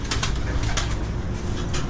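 A pure white pigeon or dove coos in a steady, continuous stream against dense background noise, the calls repeating in soft pulses close by.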